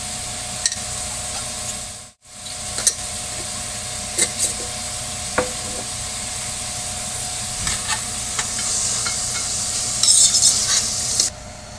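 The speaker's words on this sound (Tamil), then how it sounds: "காய்க்கு மட்டும் உப்பு போட்டு வதக்கிக்கிறேன்" Steady frying sizzle of salted vegetables with turmeric for rava kichadi fills the clip, with scraping stirs and clinks of a spoon against a pan at irregular intervals, close by.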